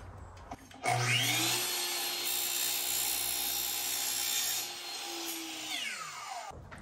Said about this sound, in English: So now I'm just gonna cut this right at a 45 degree.